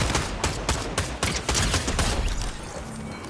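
Rapid video-game gunfire, several weapons firing in dense bursts of sharp cracks that blend into a fusillade, steady and loud from start to finish before thinning near the end.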